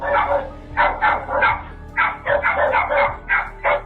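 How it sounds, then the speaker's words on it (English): Several stray dogs bark repeatedly in quick, overlapping bursts, close and loud, with a few higher yips among them. "confronted by stray dogs that were following and barking at her"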